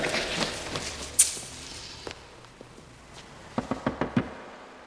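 Knocking on a shop door sounds as a few sharp taps early on, then a quick cluster of raps near the end, moderately close in a quiet room.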